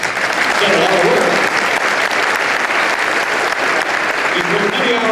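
Steady applause from an audience at a Veterans Day opening ceremony for The Wall That Heals, honouring the organizing committee; dense, even clapping holds throughout at full strength.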